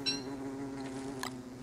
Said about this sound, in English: Ah, because here's still a bee